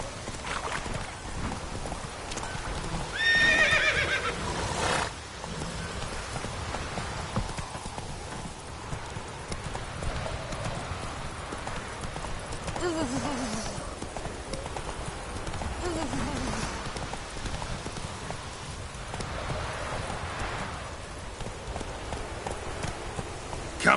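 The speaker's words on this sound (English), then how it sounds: "Come on, Roach. Slow now. Whoa" Horse hooves clopping at a run in the video game The Witcher 3, a steady near rhythm over a hissing rain-like background with a brief whinny-like sound early on, and someone speaking at times.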